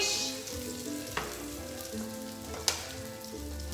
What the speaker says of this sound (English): So I like my salmon medium, which means I'm gonna cook it for about 8 minutes.